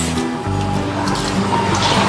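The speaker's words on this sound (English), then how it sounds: "I'm going to add the rice now" Soaked sela rice going into a pot of water while cooking biryani, a soft watery splash and squishing pour with drips, close and fairly loud, under a low steady background hum.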